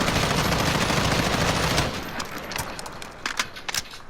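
An M321 FPW fires aimed down sights in Modern Warfare, a loud continuous automatic burst that cuts off partway, followed by a few sharp clicks and clatters.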